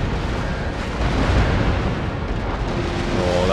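Loud, continuous rumble of naval cannon fire pounding a brig in Empire: Total War, a dense wash of overlapping booms and bursts with no clear gaps, sustained throughout.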